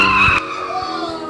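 Car tires squeal and skid sharply during a defensive-driving J-turn, a loud, high screech that cuts off after a moment and gives way to a rumbling engine.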